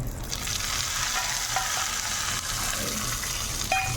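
Mustard seeds, broken dried chillies and curry leaves fry in hot coconut oil for a cucumber pachadi, giving a loud, dense, continuous crackle and sizzle close by.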